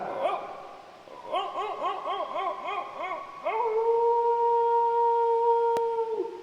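A person mimics dogs, first with a run of short yelping barks, then a long, steady, mournful howl meant to sound far off.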